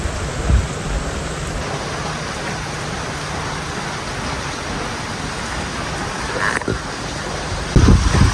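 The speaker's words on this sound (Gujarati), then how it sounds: "ફૂલ જોરમાં વરસાદ આવે છે ને પવન બી આવે છે" Heavy rain with strong wind on a hilly morning roars as a dense, steady wash, with a few gusty thumps near the end and no talk.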